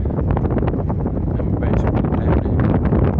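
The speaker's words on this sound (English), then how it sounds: "it's like really windy and it's starting to rain" Strong wind batters the microphone outdoors at Titanic Belfast as rain starts, a loud, continuous roaring buffet with bursts of gusting and a voice partly buried beneath it.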